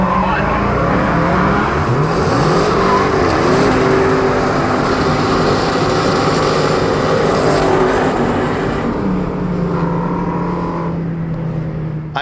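A Dodge Hellcat does a burnout at a drag race, its engine roaring loud and close with squealing tires and rising, falling revs, the roar easing near the end.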